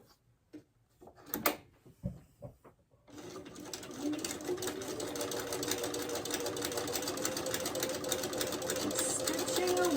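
A sewing machine stitches a quarter-inch seam on a quilt block, starting after a few handling clicks and thumps, then running in a continuous fast whirring drone that grows slightly louder.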